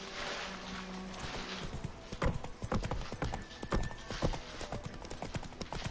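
Steady clip-clop of horse hooves on hard ground in the video game The Witcher 3: Wild Hunt, a brisk rhythmic trot over a soft ambient bed, with a brief whinny-like sound early on.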